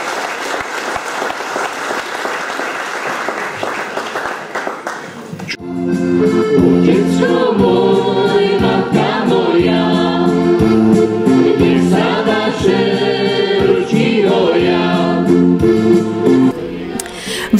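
An audience in a cultural house in Topoľčianky applauds the folk music band Kysucký prameň from Oščadnice with loud, dense clapping for about five seconds before the band's music starts and plays on.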